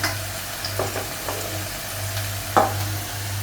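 A chickpea and potato curry simmers in a pan with a low steady sizzle under a constant hum, broken by a few scraping stirs and one sharper clink of a utensil against the pan.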